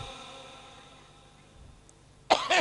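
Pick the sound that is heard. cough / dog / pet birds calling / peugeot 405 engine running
cough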